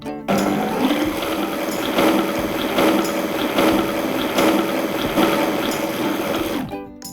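A blender runs with its lid closed, whipping a tofu mixture for a purple syrniki batter, a loud steady motor whir with a churning, ratcheting rattle that starts abruptly, holds for about six seconds and then cuts off.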